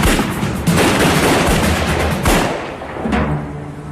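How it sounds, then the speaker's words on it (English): Dense gunfire during a bank robbery getaway, a barrage of sharp shots and booming reports rolling together for several seconds, loud and close, thinning briefly before another burst. "There was an exchange of gunshots."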